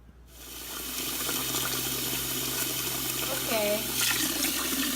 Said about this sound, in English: pork belly been soaking for 30 minutes. So now I'm gonna wash it.